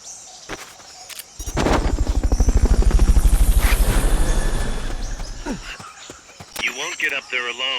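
A helicopter's rotor in Metal Gear Solid: Peace Walker chops in rapid, loud beats, swelling and then fading away, with a game voice speaking before and short electronic sounds after.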